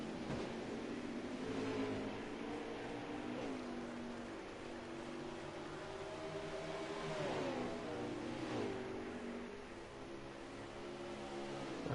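Xfinity series stock cars race through the esses at Watkins Glen, their engines a continuous loud drone with rising and falling pitch sweeps as the cars shift and pass, heard without talk.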